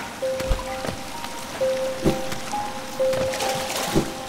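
Waterfall ambience from the Hollow Knight video game: a steady broadband wash of rushing, splashing water, moderately loud, with soft game tones and occasional thumps layered over it and no talking.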